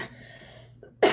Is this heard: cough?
yes